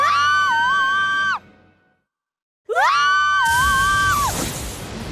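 A loud, sustained cartoon scream from the animated series My Little Pony: Friendship Is Magic, wavering in pitch, cut off, then after a short silence the same scream repeats, ending in a noisy crash.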